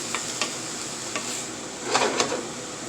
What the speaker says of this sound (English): We'll just stir fry it, combine it.